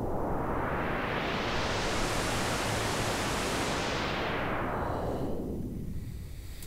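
Broadband noise swept by an Ableton Auto Filter, with the cutoff rising steadily to a bright peak and then sweeping back down, a continuous loud whoosh resembling surf with no talk.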